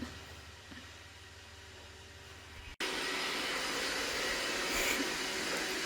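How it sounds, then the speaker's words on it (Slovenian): A household vacuum cleaner is switched on partway through, jumping from a quiet room hum to a loud, steady, close whoosh that holds to the end. "A nadziraš sesalc?"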